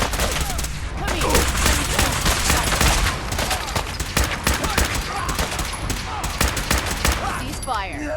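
Rapid gunfire in the video game Fallout 4, dense bursts of automatic shots and sharp cracks repeating loudly throughout, with a voice briefly heard amid the shooting.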